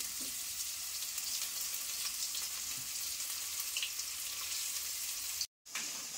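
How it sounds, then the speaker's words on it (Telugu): Paneer pieces shallow-frying lightly in a little hot oil, a steady bright sizzle running throughout with a brief dropout near the end and no talk. "అందులో వేసేసి కొంచెం లైట్గా వేపుకుంటే సరిపోతుంది, మరీ డీప్ ఫ్రై అవసరం లేదు."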